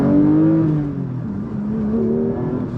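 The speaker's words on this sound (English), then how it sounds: "Oh, finally the engine gets to breathe." A Porsche 992 GT3 Touring with manual gearbox revs up, its engine note rising and falling in a loud, close, smooth wail on a rural mountain road.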